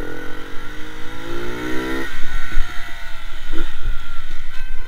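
Moby 4T moped engine revving up nearby, a buzzing mid-pitched drone rising in pitch, then dropping into rougher, pulsing idling and renewed throttle bursts.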